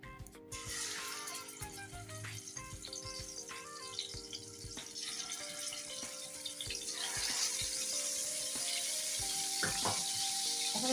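Turmeric- and salt-coated catla fish pieces fry in a few spoonfuls of oil, giving a steady close sizzle that thickens over time, with occasional clinks and stirring.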